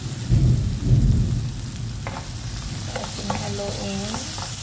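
Egg, tomato and onion being stirred in a frying pan, with a scraping, sizzling clatter that is loudest in the first second and then settles into a steady, close sizzle with light utensil scrapes.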